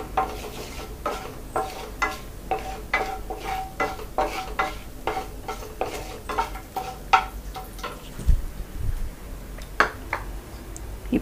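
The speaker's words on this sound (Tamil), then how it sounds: "1 பிரிஞ்சி இலை, அன்னாச்சி மொக்கு, 2 ஏலக்காய், பட்டை, லவங்கம், இதையும் நல்லா போட்டு ஃப்ரை பண்ணிக்கலாம்." Whole spices (bay leaf, star anise, cardamom, cinnamon and cloves) fry in oil for egg masala, with a soft sizzle under repeated scraping stirs of a spoon against the pan, close and without talk.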